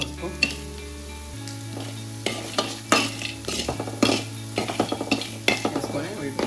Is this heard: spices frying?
yes